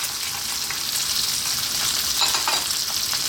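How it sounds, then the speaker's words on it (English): Onion and celery sizzle steadily in a hot pan, a continuous close frying hiss with light stirring scrapes and a few brighter crackles near the end. "And our onion goes in."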